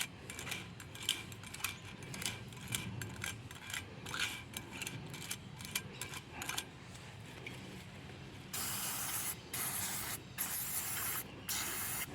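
Degreaser sprays in several loud hissing bursts near the end, cleaning synthetic grease from a Ford Falcon AU rear wheel bearing. Earlier come faint metallic clicks and ratcheting handling noises.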